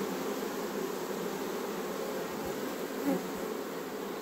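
Honeybees buzz around a hive in a steady, continuous drone of many insects that stays fairly even and moderately quiet for the whole stretch.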